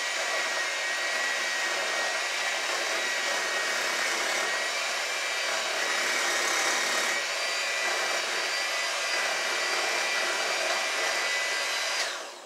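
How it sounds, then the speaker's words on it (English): An electric hand mixer whirs steadily in a kitchen bowl, a continuous high-pitched motor whine whose pitch steps up slightly over time before cutting off at the end, with no talk. "now with my mixer, I'm going to start on low. Then I'm going to gradually go up to high."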